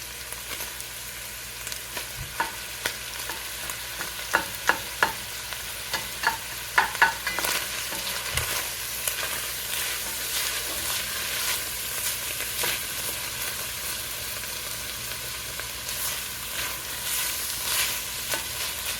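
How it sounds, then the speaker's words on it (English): Peppers fry in a pan with a steady low sizzle, while a spoon scrapes and taps against the pan in scattered clicks, heaviest early on, then settles into a continuous hiss. "Give that a stir."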